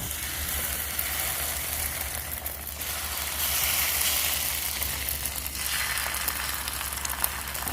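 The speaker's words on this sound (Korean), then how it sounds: "실파와 크레미가 팽이버섯 사이사이에 끼일 수 있게 충분히 묻힌 다음 팬에 올려 노릇하게 부쳐주세요." Egg-dipped enoki mushrooms coated with chives and crab sticks frying in oil in a pan over medium heat, a loud, continuous close sizzle that swells slightly in places.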